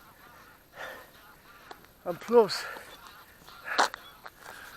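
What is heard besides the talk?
geese honking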